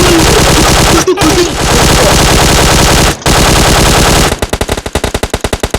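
Rapid automatic gunfire in PUBG Mobile Lite plays loud and close, long sustained bursts with two brief pauses, ending in a run of distinct separated shots.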